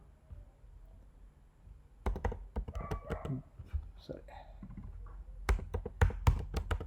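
Someone types on a computer keyboard while editing a Dockerfile: quiet at first, then irregular bursts of close, crisp key taps and clicks, ending in a denser flurry of sharper strokes.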